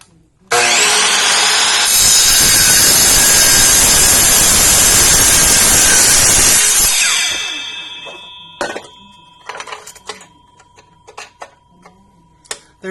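A $120 dry cut saw slices through 1 inch square metal tube, a loud steady whine with a rough grinding roar that lasts about six seconds, then spins down and gives way to scattered clicks and clatter of handling.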